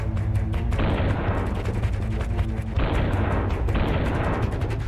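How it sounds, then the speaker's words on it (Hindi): Heavy artillery fire in the Russia-Ukraine war in rapid succession, dense booms and blasts following one another almost continuously, loud and close throughout. "तोप के गोलों का ताबड़तोड़ प्रहार।"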